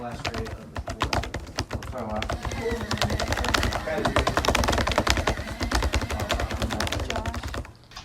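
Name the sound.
hard typing on a computer keyboard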